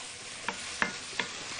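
Onion and garlic fry in a pan with a soft, quiet sizzle, broken by three light scraping stirs at even intervals.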